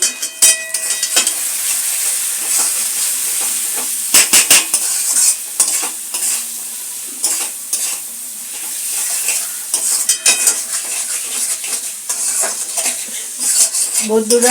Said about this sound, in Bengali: দেখুন আমার মশলাটা কষা হচ্ছে খুব ভালো করে